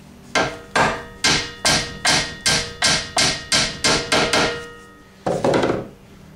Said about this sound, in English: the rivet wants to bend in the middle while you're trying to peen it over on the other side